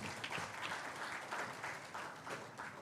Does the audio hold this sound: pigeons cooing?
no